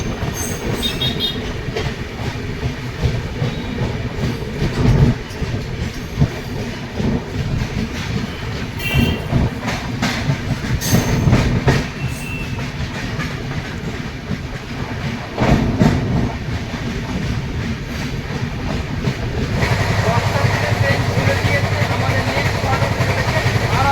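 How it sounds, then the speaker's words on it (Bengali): A New Delhi–Malda Town express rolls slowly out of Buxar town, wheels clattering in a steady rhythm over the rails with rumbling carriage noise, occasional squeals and bumps, and a heavier rumble near the end. "বক্সার শহর থেকেও ট্রেন ধীরে ধীরে বেরিয়ে যাচ্ছে"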